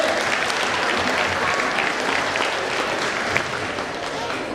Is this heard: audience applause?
yes